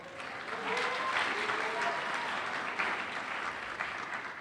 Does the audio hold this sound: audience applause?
yes